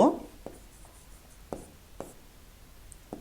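Writing on paper during a math lesson, soft scratching with a few sharp taps of the pen, faint and close against a low background hiss, no talking.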